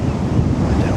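Sea waves wash onto the shore at Cleveleys as the tide goes out, a steady broadband surf roar mixed with wind buffeting the microphone, loud and continuous throughout with no talk.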